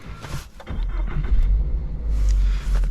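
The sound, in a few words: sports car engine starting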